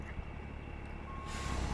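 Reversing beeps from a truck in American Truck Simulator, a steady repeating tone over the low rumble of the idling engine, close and moderately loud, ending in a rising hiss of air brakes.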